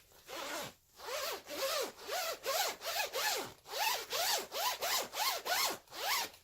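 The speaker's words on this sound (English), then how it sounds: "Now it's a metal zipper, which has its drawbacks" A YKK metal zipper on a Kuhl Kollusion fleece-lined jacket is zipped back and forth repeatedly, about fourteen quick, close rasping strokes in a steady rhythm, loud and alone.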